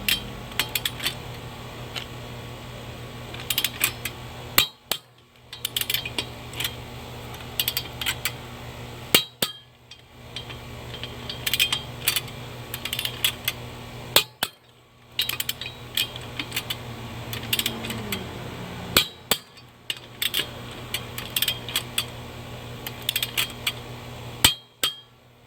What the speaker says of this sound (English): we're going to go ahead and torque these to 100 foot-pounds